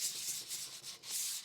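220-grit sandpaper rubs along a hand-built guitar neck in soft, close back-and-forth strokes, about four passes with brief pauses between them, fairly quiet and with no voices.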